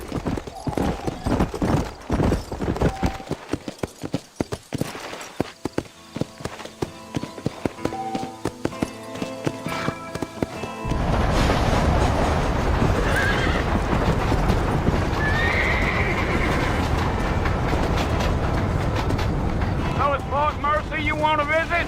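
Horses clip-clop along in the Red Dead Redemption video game, with rhythmic hoof beats under a voice, followed by a steady outdoor rush of wind and travel noise and a brief whinny near the end.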